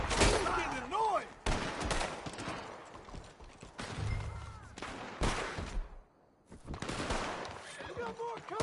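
Rapid gunshots and bursts of gunfire ring out in the Western shootout game Red Dead Redemption 2, cracking repeatedly at close range amid shouting voices.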